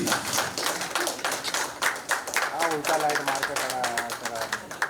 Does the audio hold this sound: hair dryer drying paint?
no